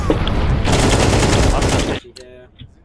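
Rapid automatic gunfire bursts loudly for about two seconds in Counter-Strike, then cuts off abruptly, followed by a brief ringing metallic tail and quieter game sounds.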